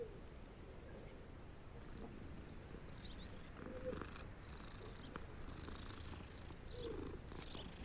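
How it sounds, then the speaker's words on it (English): A cat in Hogwarts Legacy purrs steadily while being petted, a soft continuous rumble close by, with faint game ambience and a few light chirps in the background. "Let me pet this cat real quick"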